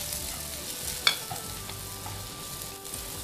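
Garlic and ginger fry in a little hot oil in a home kitchen, giving a soft, steady sizzle with occasional light stirring and one brief utensil clink, with no one speaking.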